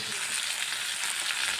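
Vermicelli fries in a pan for upma, giving a dense, steady, close-up sizzle that stays constant from start to finish.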